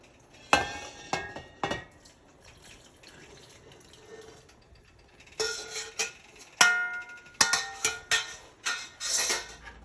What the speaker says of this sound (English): Here I mix the broth together with the stew.